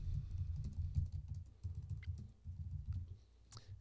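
Close, quiet typing on a computer keyboard as a file description is entered, with bursts of rapid keystrokes and brief pauses between words. A sharper click near the end.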